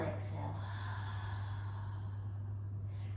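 During a yoga breathing exercise, a soft, drawn-out exhale trails off quietly over a constant low electrical hum.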